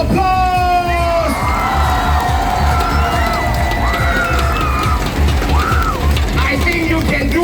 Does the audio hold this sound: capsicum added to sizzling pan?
no